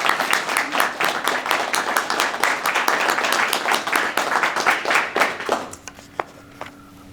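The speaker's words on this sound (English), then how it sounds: "If you join me in applause." Audience applause at a college Hall of Fame induction ceremony, brisk and lively clapping from a crowd that fades out near the end, leaving a few scattered claps and a faint tone.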